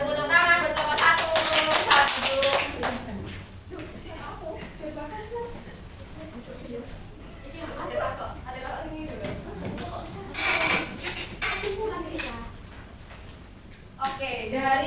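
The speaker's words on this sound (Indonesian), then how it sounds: "Tepuk tangan buat kelompok 1" Classmates clap for group 1 in a secondary-school trigonometry class, with the loudest burst of clapping in the first few seconds, then scattered taps under a teacher's voice and room noise.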